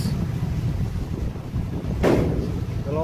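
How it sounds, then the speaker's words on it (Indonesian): Strong wind buffets the microphone on board the ferry MV Dumai Line 3 at sea, a constant low roaring rumble with a brief gusty burst midway. "Angin kuat guys."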